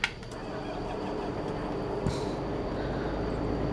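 A John Deere 8030 series tractor in Farming Simulator 22 starts up with a sharp click, then settles into a steady, droning engine idle with a constant hum that continues to the end.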